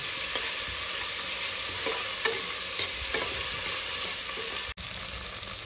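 Garlic sautés in hot oil for a pulao, giving a loud, steady, dense sizzle throughout with faint stirring scrapes and no talk.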